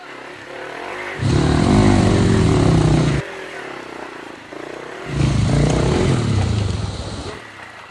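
A motorcycle climbs a steep off-road trail toward Jaljala in Rolpa, its engine revving hard in two loud, sustained surges with a quieter idle between, while voices talk close by.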